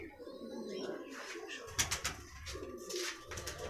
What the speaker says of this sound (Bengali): অখিলবাবুর বাড়িতে সব রকম পায়রার আপনি কালেকশন পেয়ে যাবেন